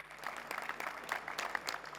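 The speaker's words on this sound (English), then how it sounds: "Please give him a big round of applause." An audience at a healthcare conference gives a brief round of light, fairly faint applause, individual claps distinct and scattered rather than thunderous.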